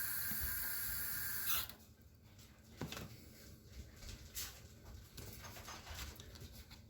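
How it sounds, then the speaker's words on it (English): Water pours into a powder mix for a homemade smoke device, a brief hissing stream at first, then quieter scattered splashes and dribbles with faint birdsong in the background. "you're just going to add a little bit of water"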